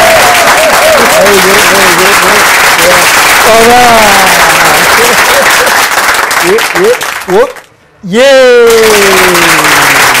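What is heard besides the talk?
round of applause for comedian Augustin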